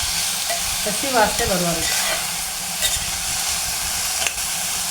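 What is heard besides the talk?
doddapatre (Indian borage) leaves frying and sizzling in a pan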